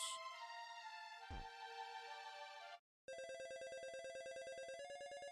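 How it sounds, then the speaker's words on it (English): Chiptune jingle from the Dragon Quest II video game with a dial-up modem quality, bright warbling electronic tones, then a short gap and a rapid pulsing ringtone-like trill that repeats steadily, loud and clean with no talking. "God, that sounds like a fucking phone modem."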